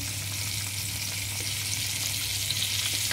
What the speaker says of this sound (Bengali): আর একটু হিটটা কমিয়ে দিলে কি ভেতর থেকেও ফ্রাইটা হয়ে যাবে